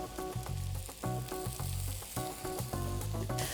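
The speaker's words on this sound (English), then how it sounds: "And we're going to cook these for 7 to 8 minutes until they're golden and caramelized." Chestnut and porcini mushrooms fry in a pan, their sizzle a constant hiss sitting beneath rhythmic background music that dominates the clip.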